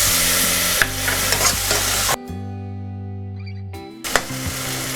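Ginger and cumin paste frying in a pan after a splash of water is added, a loud hissing sizzle that cuts out briefly to a humming background before returning with stirring.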